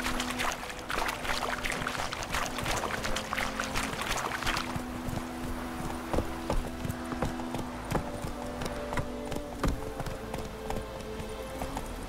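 A horse's hooves clip-clopping in the video game The Witcher 3, a steady rhythmic trot of sharp knocks under a low hum, with a rushing noise at first that fades away.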